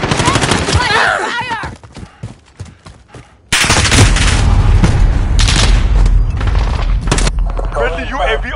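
Video-game gunfire from Call of Duty Modern Warfare crackles in loud bursts and sustained volleys, with heavy booms after a brief lull, mixed with distant shouting voices.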